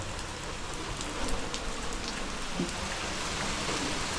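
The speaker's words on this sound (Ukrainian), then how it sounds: "Добре, що йде дощ" Steady rain falls on surfaces outdoors, a dense, even hiss with scattered drops pattering throughout, no voices.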